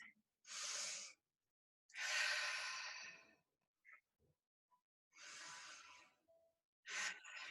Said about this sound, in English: 2 deep breaths